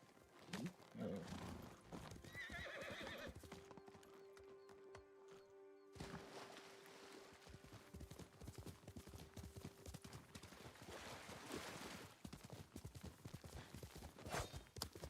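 Horse hooves clip-clop steadily in a PC video game, with a neigh near the start and the hoofbeats close and rhythmic throughout.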